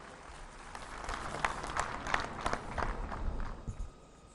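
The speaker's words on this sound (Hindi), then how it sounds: "दोस्तों, जोरदार तालियों से स्वागत करें।" Crowd applause at an outdoor public meeting with PM Modi in Sissu, Lahaul Spiti: a dense, steady wash of many hands clapping at a distance, swelling slightly mid-way and fading toward the end, with no talking.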